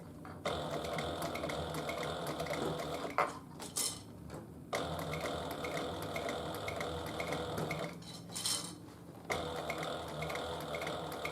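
A sewing machine top stitching a handbag, running in long steady mechanical bursts with a fast rhythmic clatter and brief pauses between runs.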